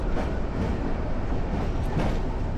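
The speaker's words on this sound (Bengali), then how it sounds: "অবশেষে আমাদের ট্রেন এখন এই কক্সবাজার রেলওয়ে স্টেশনে প্রবেশ করলো।" Probal Express train rolls into Cox's Bazar railway station, a loud continuous rumble of wheels and carriages heard up close with faint rhythmic clatter, no talk.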